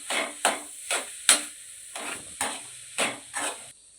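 Carrot halwa with khoa and cardamom powder being stirred in a pan, heard as a steady series of about eight distinct scraping, sizzling strokes at a regular rhythm, close and clear with no talk.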